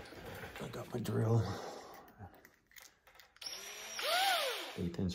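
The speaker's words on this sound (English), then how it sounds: "I got my drill." A handheld power drill whirs in short bursts while installing a door storage bag on a 2023 Can-Am Maverick Sport Max, rising and falling in pitch near the microphone.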